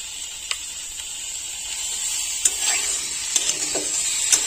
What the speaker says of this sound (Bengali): আবারও 3 থেকে 4 মিনিট খুব ভালোভাবে নাড়াচাড়া করে সবজি কষাই করে নেব